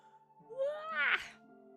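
A person yawns once: a drawn-out, rising voiced breath that swells and then fades into a soft exhale, close and fairly quiet, with no other talk.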